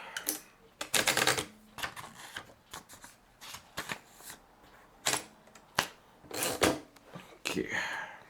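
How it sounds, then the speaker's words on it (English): A 1911 Underwood 5 manual typewriter with a fresh ribbon types a sample, irregular bursts of sharp key strikes and clacks up close, with pauses between runs. "See, maybe I can do a type sample. There's a brand new ribbon in it"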